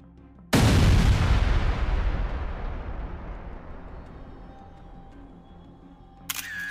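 A gunpowder firecracker blasts inside a closed sewer, one sudden loud boom that rolls into a long, slowly fading rumble, with a faint clatter near the end.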